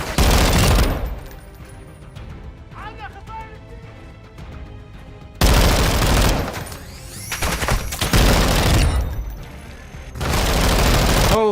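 A big machine gun fires sustained loud bursts in Call of Duty DMZ, long streams of rapid shots broken by short pauses, with a voice talking faintly between the bursts.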